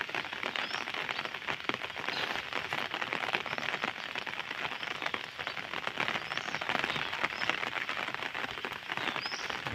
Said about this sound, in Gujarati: વરસાદ શરૂ છે આજે.